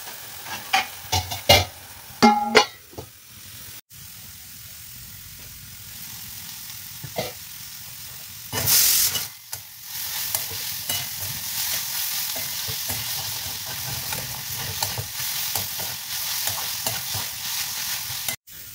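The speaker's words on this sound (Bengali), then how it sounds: "রসুন আর পেঁয়াজ দিয়ে এইভাবে শাক ভাজা" Leafy greens fry with garlic, onion and dried chilli, making a steady sizzle and hiss. Stirring clatters sharply near the start and again midway, and the sizzle continues close and fairly loud throughout.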